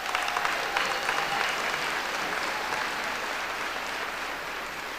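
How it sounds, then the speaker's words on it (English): A dense, steady crowd applause at a 2025 Chandler-Gilbert Community College commencement ceremony fills the whole stretch, loud and continuous with no voices on top. "So, a round of applause."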